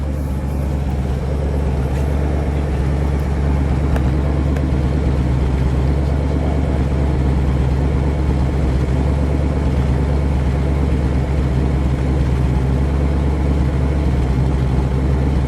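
A 1959 Dodge Custom Royal Lancer Super D500 convertible idles high, its engine a loud, close, steady rumble that holds unchanged throughout.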